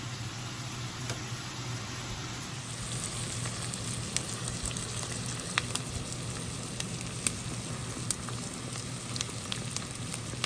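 Spicy chili shrimp and miracle noodles sizzle and fry steadily in a pan, a close, continuous crackle with small pops and faint stirring scrapes, no talking.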